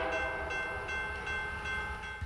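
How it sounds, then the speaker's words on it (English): A train passes near a bridge in Montana, its horn sounding as a sustained, faint tonal blare over a low rumble of rolling rail cars for a couple of seconds. "You also might have to wait for a train."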